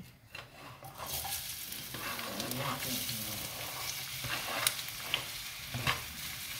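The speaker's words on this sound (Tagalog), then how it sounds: "So, ilagay na natin yung onion natin." Onion sizzles steadily in a frying pan as it is stirred, a continuous close hiss with occasional scraping clicks, alone without talk.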